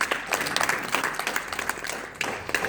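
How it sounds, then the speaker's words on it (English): An audience applauds a guest named Justin Tunis at a comedy roast, steady mid-level clapping with brief louder swells and the odd voice mixed in. "Everybody, round of applause for Justin Tunis,"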